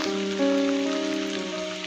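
Steady rain hisses continuously at close range, layered under a sustained low tonal drone in a short drama scene.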